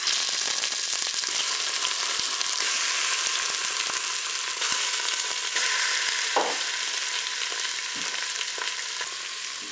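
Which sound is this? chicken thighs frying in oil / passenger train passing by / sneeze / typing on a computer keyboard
chicken thighs frying in oil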